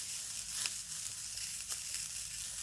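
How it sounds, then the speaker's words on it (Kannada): Cluster beans (chowlikai) frying in a pan on a gas stove give a steady, even sizzle that keeps up without a break. Faint stirring clinks come and go at moments, and no voices are heard. "ಇವ ಚೌಳಿಕಾಯಿ ಚಂದ ಕಣ್ಣು ಬೀಳೋ ಹಂಗೆ ಹುರಿಬೇಕು ರೀ ಇವಕ್ಕೆ"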